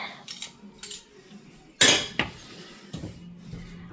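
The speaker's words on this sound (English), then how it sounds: "Give that a quick little stir." A utensil stirs a chicken and steak burrito bowl mixture, producing a few close, sharp clinks and knocks against the bowl with quiet gaps between them.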